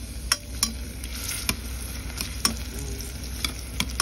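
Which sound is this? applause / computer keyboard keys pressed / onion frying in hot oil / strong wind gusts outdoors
onion frying in hot oil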